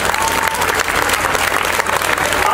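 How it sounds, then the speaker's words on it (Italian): Loud, dense audience applause in an Italian event hall, a continuous wash of close clapping from a large crowd that stays at full strength throughout the short stretch. "facciamo un bel applauso anche a loro"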